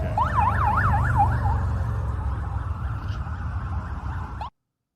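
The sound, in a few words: emergency vehicle sirens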